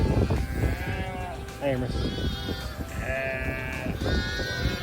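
Ewes and lambs at a farm nursery pen bleat repeatedly, several overlapping calls from near and farther off, while a person talks over them.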